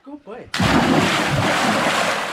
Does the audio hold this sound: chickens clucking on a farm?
no